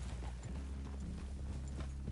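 Steady rhythmic clip-clop of horse hooves over a low rumbling background, continuous and moderately close.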